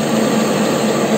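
A lathe turns a KamAZ truck axle shaft at roughly 250 rpm while a roughing cutter without a chip breaker takes the cut, giving a steady, unbroken broadband machining roar throughout with no voices.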